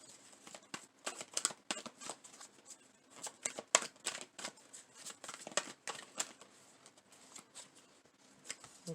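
Tarot cards being shuffled and pulled from a deck, a quiet, close series of quick riffling flutters and soft slaps in irregular bursts.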